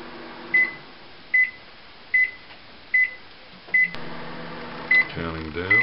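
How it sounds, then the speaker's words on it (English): A coffee colour-measuring instrument signals that its sample reading is done with a series of about seven short, clear electronic beeps at regular intervals, while a voice talks over the later ones. "At the end of the 20 seconds, you'll hear a beep, and that'll tell you the sample's done."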